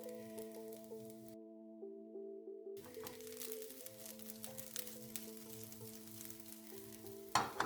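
Egg fried rice with shrimp, garlic and spring onions cooking in a pan over low to medium heat, a soft steady sizzle with occasional stirring scrapes, faint and close, beneath sustained background music tones.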